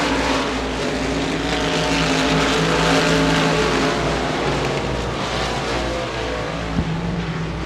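Modified race cars roar continuously at Devils Bowl Speedway during a B main race, a loud, steady engine drone filling the whole stretch with no pauses.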